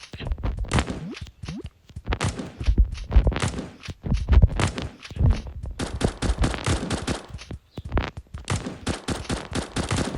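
Rapid automatic gunfire from a video game, with bursts of shots and short pauses, loud and close throughout, without talk over it.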